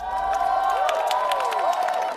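An audience at a comedy stage show claps and cheers. Whoops and rising shouts ride over a continuous crowd roar that stays loud throughout.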